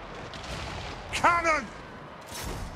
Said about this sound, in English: Cannon! Flame cannon!